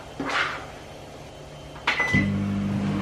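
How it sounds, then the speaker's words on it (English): A microwave oven heating rice gives a soft clunk, then a short electronic beep, and settles into a low, steady running hum close by. "There's the microwave for the rice."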